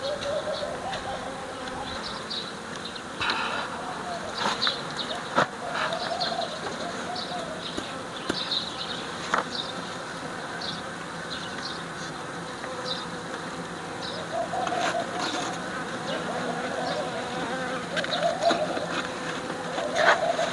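Honey bees hum steadily while being placed into mini nucleus hives, a close, continuous buzzing with scattered sharper buzzes and faint bird calls around them.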